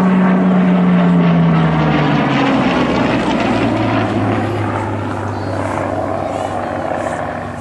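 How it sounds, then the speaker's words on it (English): A Hawker Hurricane fighter flies past at the Abingdon airshow, its piston engine and propeller giving a loud, sustained drone that shifts in pitch as it passes nearby, then recedes slightly. "that actual aeroplane flying in front of us, is the only Hurricane left flying"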